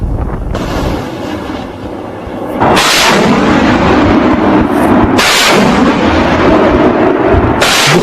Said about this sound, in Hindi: पूरी रात रॉकेट बरसते हैं, मशीन गन से फायरिंग होती है